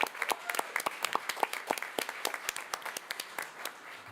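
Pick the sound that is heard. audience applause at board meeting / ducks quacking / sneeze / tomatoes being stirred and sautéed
audience applause at board meeting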